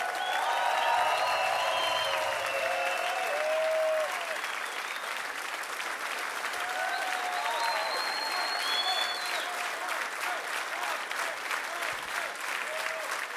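A concert audience at an unplugged show claps in sustained, dense applause for about thirteen seconds, with a few voices and brief cheers rising over the crowd before it gradually thins.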